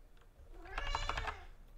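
A cat meows once in a drawn-out, fairly close call, heard indoors over a low background hum with no talking.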